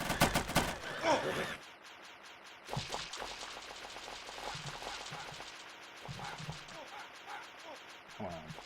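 Automatic weapon fire in a video game: a loud opening burst, then a long stretch of steady, rapid repeated shots at lower level, with occasional voice-like sounds mixed in.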